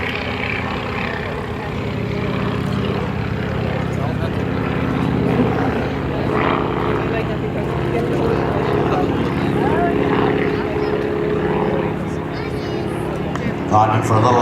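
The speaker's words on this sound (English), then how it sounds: "Climbing for a little altitude is John Mohr and the Stearman Cadet" Stearman Cadet biplane climbing during airshow aerobatics, a steady loud propeller-engine drone that holds throughout, with a commentator speaking over it.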